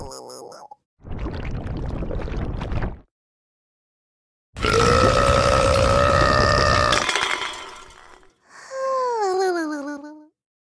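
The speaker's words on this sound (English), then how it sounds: "Little Blue drank too much and let out a huge burp." A cartoon animal's huge burp after drinking too much water in a children's learning cartoon, a long, loud, drawn-out belch amid other cartoon sound effects, including gulping and a rising-and-falling whistle-like tone.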